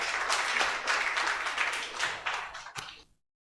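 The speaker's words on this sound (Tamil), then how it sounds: "பசங்களுக்கு உற்சாகமாக ஒரு கைகளை தட்டிடுங்க" Audience applause for a children's program performance, a dense burst of clapping from many people that thins out and stops abruptly after about three seconds.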